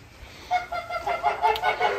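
Turkeys or other fowl clucking and chattering in a farmyard pen, a run of short overlapping calls at moderate distance with no talk.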